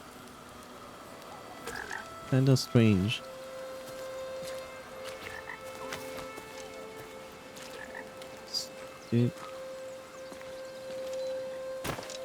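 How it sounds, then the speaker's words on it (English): A frog croaks in a forest setting in the game Blacktail, two deep warbling croaks close together followed by a single one later, over ambient hum, with a brief spoken comment. "It's surprising to me that this frog has no entry."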